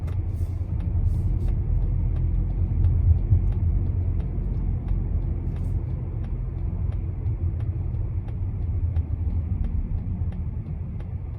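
A 2019 Mazda3 moving through heavy traffic, heard from inside the cabin as a steady low road and engine rumble with faint ticking clicks, no talk.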